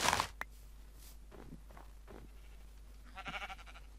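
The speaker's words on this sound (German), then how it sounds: "Ein rosa Schaf." A pink sheep in Minecraft gives a few short bleats in a quiet in-game wilderness, with a louder bleat near the end, plus soft rustling steps between calls.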